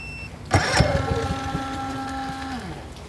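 An EcoFlow dual-fuel generator running on gas is cranked in a failed start attempt: a sudden burst of mechanical churning and whirring that continues steadily for about two seconds, then winds down and stops, close and fairly loud.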